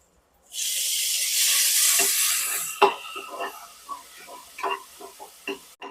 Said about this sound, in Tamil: இந்த தக்காளி நல்லா வெங்காயத்தோட சேர்ந்து மசிஞ்சு வர வரைக்கும் வதக்கி விடணும்.